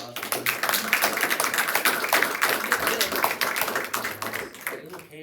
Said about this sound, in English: let's give Susanna a round of applause